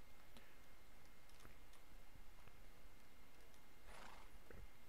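In the video game Minecraft, a horse gives a neigh over a steady, noisy background, with soft clip-clop hoof ticks scattered throughout, faint and close.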